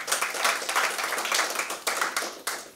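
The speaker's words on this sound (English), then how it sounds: "You're clapping." An audience at an entrepreneurial workshop claps steadily for a few seconds, a dense, fairly close round of applause with no voices over it.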